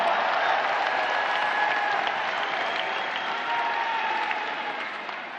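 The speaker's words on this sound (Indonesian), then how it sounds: "Beri tepuk tangan untuk seluruh jajaran Amanat Indonesia." Audience applause at a political party gathering and speech in Indonesia: dense, continuous clapping from a large crowd, loud and even from start to finish, fading only slightly at the end.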